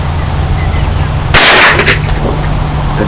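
A single sharp, loud report from a Mossberg Blaze 47 .22 rifle cracks once midway, with a short decaying tail over a steady low background hum.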